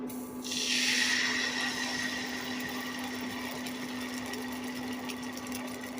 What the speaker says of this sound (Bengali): তো তেলটা গরম হয়ে গেছে এখন আমি এটাতে দিয়ে দিচ্ছি ব্যাটারগুলো